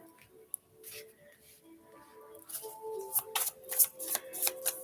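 Tarot cards are shuffled close by, soft at first and then building into clustered riffling flicks and snaps toward the end, with faint background murmur.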